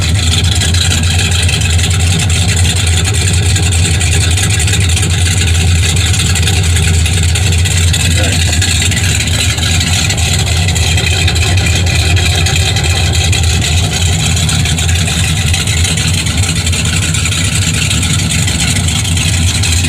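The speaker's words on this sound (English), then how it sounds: "I'll go around behind for the exhaust note too. Oh yeah, nice burble." Exhaust of a 1970 Chevy Chevelle SS 454 V8 idling at a car show, a loud, steady low burble heard up close from behind without a break for twenty seconds.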